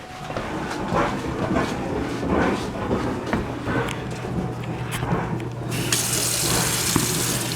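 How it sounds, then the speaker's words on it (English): Tap water running into a kitchen sink while a head of cabbage is washed, a steady close hiss and splash that grows brighter and fuller near the end. "take it over to the sink for washing"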